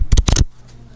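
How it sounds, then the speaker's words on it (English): Playing cards are shuffled up close: two quick, crisp bursts of riffling clicks, then near silence. "Nice playing cards here, as you can hear."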